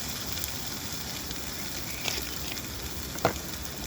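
Food sizzles steadily in a pan on a camping stove outdoors, a close, even frying hiss with a few small pops and crackles.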